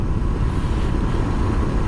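A 125cc motorcycle engine hums while riding along at an easy pace, a loud, steady drone mixed with wind rush and no talking.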